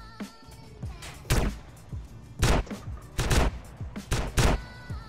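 Gunfire in the GTA San Andreas roleplay video game, with a rapid series of sharp shots in quick bursts and single cracks, close and fairly loud, in a street robbery scene.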